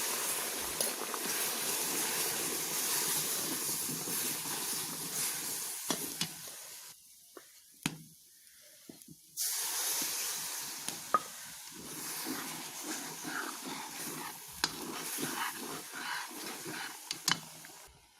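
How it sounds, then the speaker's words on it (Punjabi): Milk poured into roasted semolina in a hot pan while making gulab jamun, a broad sizzling hiss that drops briefly to near quiet, then surges back loud and crackling with small clicks. "ਆਪਣੀ ਸੂਜੀ ਭੁੱਜ ਗਈ ਹੁਣ ਆਪਾਂ ਇਹ ਚ ਦੁੱਧ ਪਾਉਂਦੇ"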